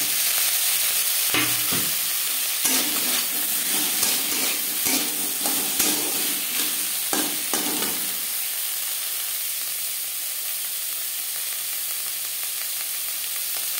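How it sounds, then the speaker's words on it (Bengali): Cauliflower stirred and sizzling in a hot pan while cooking cholar dal, with scraping and stirring clatter for about eight seconds, then a steady frying hiss alone. "নাড়াচাড়া করে দেব। আর দিয়ে দেব ফুলকপি।"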